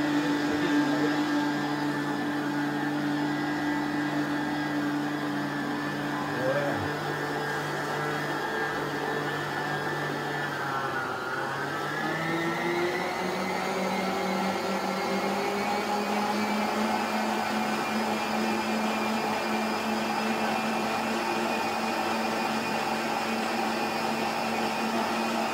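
An electric mixer beating flour and sugar for a vasilopita cake, a continuous loud whir that steps up in pitch partway through as the speed is raised.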